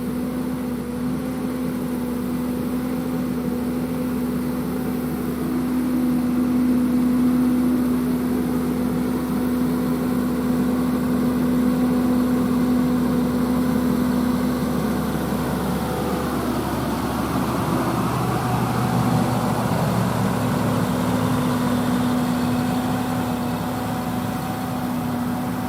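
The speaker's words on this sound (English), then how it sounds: "And this particular tractor is a 7830." A John Deere 7830 tractor idles in a peanut field, a steady low mechanical rumble that stays constant throughout, with a slight shift in its tone partway through.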